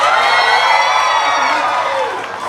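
An audience at a physiotherapy college graduation ceremony breaks into loud, dense cheering and applause, a bright wash of shouts and clapping that holds steady before fading slightly at the end.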